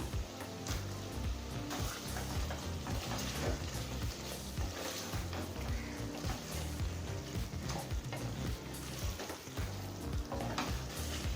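Chopped tomato frying with softened onions in a pan for Ambur chicken biryani, a steady close sizzle with stirring scrapes throughout, no voices.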